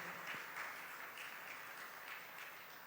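A church congregation applauds during a Sunday Mass homily, a steady, dense patter of many hands clapping that continues at an even, moderate level throughout with no pause.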